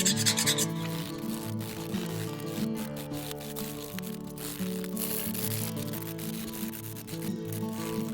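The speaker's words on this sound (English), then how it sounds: "Now to finish it off with a regular sanding." Continuous rubbing and scraping of sandpaper against a carved wooden crappie crankbait lure, close and steady, with a faint musical background underneath.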